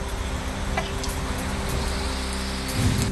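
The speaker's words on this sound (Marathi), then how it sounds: "पुण्यातील विश्रांतवाडी परिसरामध्ये पावसाच्या हलक्या सरी" Light rain showers falling over a neighbourhood of Pune, a steady close hiss of drops on surfaces with a low rumble of passing traffic underneath, no voices.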